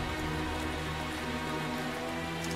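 Steady rain in the video game Tales of Zestiria forms a dense, continuous hiss of falling water, with no breaks or distinct drops standing out.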